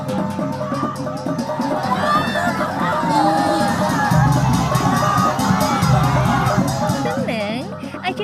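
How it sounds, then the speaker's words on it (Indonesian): A crowd shouts and cheers at a traditional coming-of-age ceremony in Wakatobi, with excited high-pitched voices, some children among them, and constant babble that keeps going at a loud, busy level. "Sampai-sampai ada yang berteriak-teriak histeris tuh."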